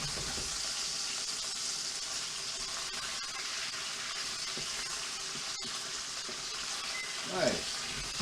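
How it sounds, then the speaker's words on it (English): Pork pieces fry in a hot pan with a steady, continuous sizzle, with a brief louder burst of sizzling near the end as the meat is turned over. "Okay, let's flip the pork."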